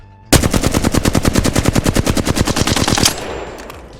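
Automatic weapon fire in the video game Apex Legends, a rapid, loud, evenly spaced stream of about thirty shots lasting nearly three seconds before cutting off into a fading tail.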